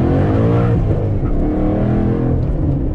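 A Mustang's engine roars loudly and continuously close by, strained and revving as the tires spin in first gear, with a rough, droning tone throughout.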